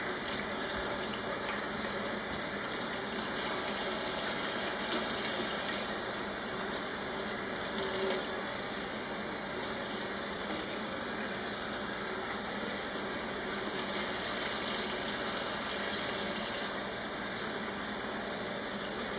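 Cream-colored cross-stitch fabric, dyed orange, is rinsed under a running tap: a steady, full rush of faucet water into a sink that continues throughout with slight swells, with no speech.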